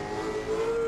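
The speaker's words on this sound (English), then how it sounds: "we are just roasting these tires" A Mustang drifting on canyon roads in Assetto, with steady engine drone and a sustained tonal tire squeal that rises and swells louder toward the end, with no one talking.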